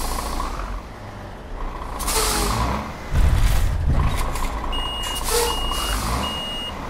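Inside the cabin of a Mercedes Axor 2644 truck in Euro Truck Simulator 2 as it mounts a curb: a steady engine hum with rattling and clunks, a burst of air brake hiss and faint intermittent reversing beeps.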